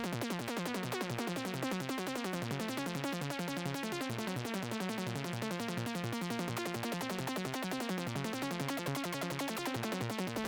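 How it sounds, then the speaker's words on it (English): Rapid, steady stream of short plucked Serum 2 synth notes with quick decay, a psytrance arpeggio playing a busy repeating pattern alone at moderate volume. "And now I'm going to make a plucky envelope,"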